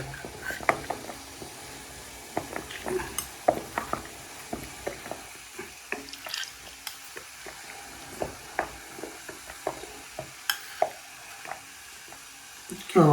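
Mint leaves cooking in oil in a pan crackle with scattered sharp pops and clicks from stirring, intermittent and fairly quiet against a low background.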